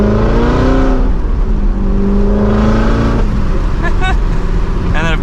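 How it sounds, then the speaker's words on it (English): A Chevrolet Corvette C7 Z06 with an aftermarket exhaust rumbles steadily at close range while driving, with a deep sustained drone and a couple of brief higher-pitched rising revs near the end. "we can at least hear a little bit of that exhaust."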